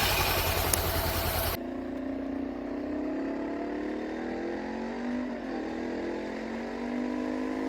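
Honda CB500X motorcycle ridden on a bumpy country road between Yarra Junction and Gembrook in Victoria, Australia, its engine droning steadily and rising and falling in pitch under rushing wind, after a brief louder burst at the start.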